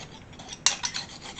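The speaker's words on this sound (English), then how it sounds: "I'm just taking a little like kind of wallpaper scraper, little flat blade, just kind of getting rid of any loose paint that's on there," A flat-blade wallpaper scraper rasps over metal on a VW Beetle, stripping loose paint, dirt and corrosion: a close, gritty scraping that builds into a sharp stroke midway, then repeated rough rubbing passes.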